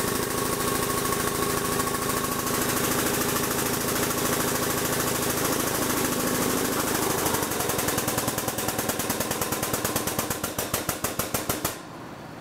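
Air-over-hydraulic jack pumping steadily on a finger brake resting on a plastic table, a loud continuous mechanical drone with rapid pulsing that quickens toward the end, then a hiss as it stops.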